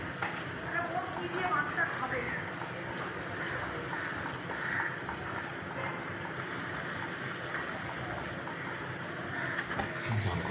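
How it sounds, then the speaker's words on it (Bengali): Meat braising and frying in a pan for a home lunch, with steady sizzling and occasional stirring scrapes throughout, mixed with some background room noise. "এখানে দুপুরে মাংস কষাচ্ছি"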